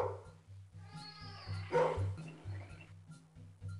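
A cartoonish dog barks in the video game Max and the Secret Formula, a few short yips and a whine over a soft repeating low musical loop, quiet and close.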